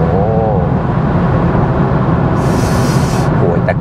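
A BMW 430i Coupe in Sport mode accelerates hard with a loud, steady engine drone heard from inside the cabin, while a hissing rush of air or wind builds briefly partway through.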